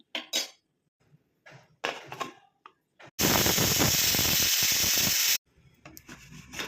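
A pressure cooker holding rice for mint pulao gives off a loud, steady hiss of escaping steam for about two seconds. Scattered clinks and handling noises come before and after it.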